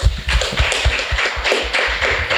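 An audience at a second-anniversary celebration for a book claps in short, rhythmic bursts, close by and fairly loud, with no voices over it.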